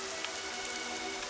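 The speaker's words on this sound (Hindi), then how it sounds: "इतनी बारिश हो रही है" Heavy rain pours in a dense, continuous hiss on surfaces, close and steady with a faint tonal hum beneath.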